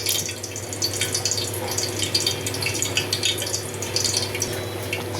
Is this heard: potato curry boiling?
yes